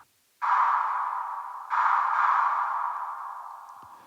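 A warm, long reverb preset in Ableton Live colors a short synthetic tone, which sounds twice in quick succession and then trails off in a smooth, gradually fading tail with no voices present.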